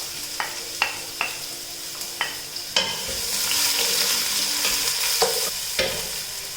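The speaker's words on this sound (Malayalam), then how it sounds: "ഇതിലേക്ക് ഞാനിവിടെ 2 സവാള അരിഞ്ഞെടുത്തിട്ടുണ്ട്" Two chopped onions sauté in hot oil in a saucepan, with a steady close sizzle and a run of sharp spoon taps and scrapes against the pan's rim and base.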